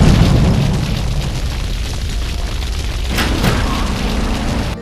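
Grenade explosions torching a house in GTA 3, heard as a loud, continuous rumbling blast with sharp cracks and bursts breaking through near the middle.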